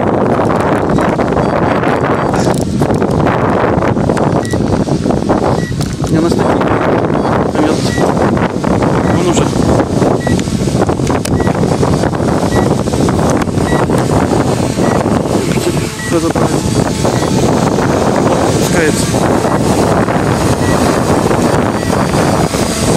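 Strong wind gusts outdoors while an SG906 Pro GPS quadcopter flies, a loud continuous rushing and microphone buffeting that swells and eases, with the drone's hum buried beneath it.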